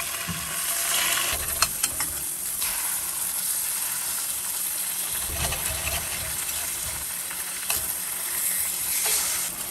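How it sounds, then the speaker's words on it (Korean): Tofu fries in an oiled hot pan, giving a continuous close sizzle broken by occasional scraping and clicking from turning the pieces. "약간의 기름을 두른 달군 팬에 두부를 넣고 아래 위 노릇하게 구워주고요."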